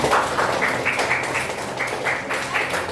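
A class claps together during a micro-teaching lesson, brisk bursts of many hands in an uneven rhythm, close and fairly loud, with a little voice mixed underneath.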